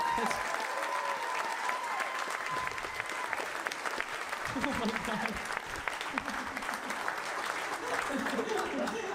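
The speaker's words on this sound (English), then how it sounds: "can you clap for her?" A comedy club audience claps loudly and continuously during a crowd-work stand-up set, while a voice briefly exclaims over the applause.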